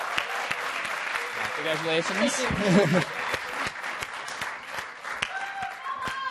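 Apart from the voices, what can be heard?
audience applause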